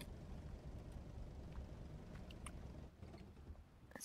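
A boat engine in the survival game Rust runs as a steady, dense low rumble with a watery wash over it, holding level throughout and dipping slightly near the end.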